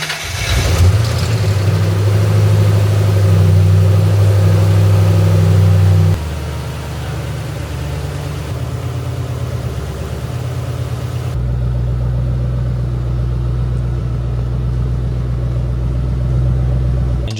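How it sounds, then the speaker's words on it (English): A supercharged Ford Mustang engine cranks and catches, then roars loudly for several seconds before dropping into a steady, deep idle that holds to the end, close by with no talk. "now it's time to start it and see what happens"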